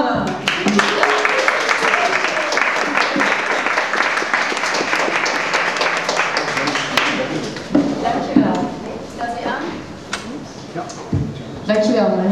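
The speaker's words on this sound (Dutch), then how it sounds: "Ik wil heel graag een groot applaus voor Ellen ten Damme" A live audience applauds Ellen ten Damme at an interview event, a dense, sustained wash of clapping that fills most of the clip before thinning into scattered claps near the end.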